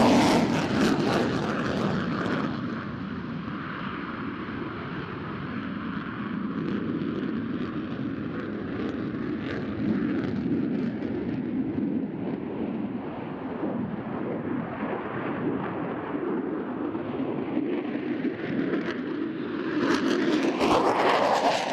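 An F-35C fighter jet flying a tight minimum-radius turn at the NAS Oceana air show: a loud, continuous engine roar that holds steady, then swells again at the end.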